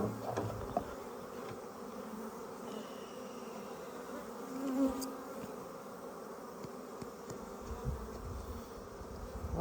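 Agitated honeybees buzzing in a continuous low, faint drone, close by and steady, with no voices.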